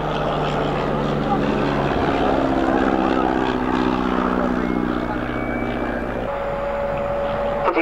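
A Miles Magister propeller-driven monoplane trainer flies with a steady, loud droning engine hum and a tonal engine note held throughout, slightly shifting pitch toward the end.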